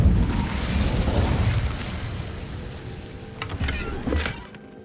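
The Incendio fire spell cast in Hogwarts Legacy: a loud, sustained whooshing burst of flame with a deep rumble that fades gradually, with a few faint clicks near the end.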